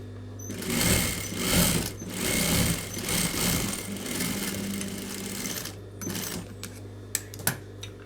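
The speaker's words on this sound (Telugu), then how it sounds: "డైరెక్ట్ బార్డర్ని ఫోల్డ్ చేసి స్టిచ్ అనేది వేసుకునేస్తాను" A sewing machine runs in several bursts, stitching down the folded border of a blouse. The motor whirs steadily with brief pauses, then a few sharp clicks and taps near the end.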